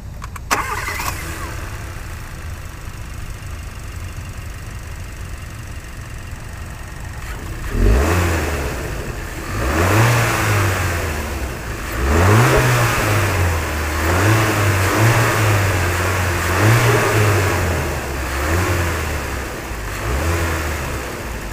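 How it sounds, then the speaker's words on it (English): After near silence, a 2019 Hyundai Veloster Turbo's turbocharged four-cylinder engine cranks and starts, then revs up and down several times, loud and close, settling back toward idle between the revs. "For now, let's hear how this engine sounds."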